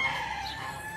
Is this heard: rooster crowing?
yes